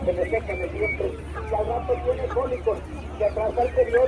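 Busy cheeping of chicks at close range, a steady chatter of calls with voices and market noise mixed in, at a market day in Tlaxiaco, Oaxaca, Mexico.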